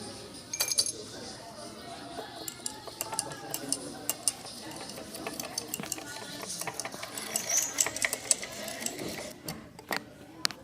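Faint glassy clinks and light tapping as a thermometer stirs a calcium chloride solution in a glass container during a chemistry demonstration, irregular and quiet, with soft background noise.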